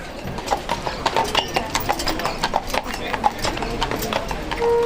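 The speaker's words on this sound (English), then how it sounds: "you can take a horse-drawn carriage for a more romantic and relaxed ride" A horse-drawn carriage climbs the road up to Neuschwanstein castle in Bavaria, hooves clip-clopping in a steady, uneven rhythm on the pavement at close range, with faint background voices and murmur underneath.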